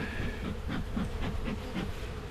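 Honeybees buzz steadily in an opened hive in cold weather, a close, continuous drone with soft pulsing swells and no talking.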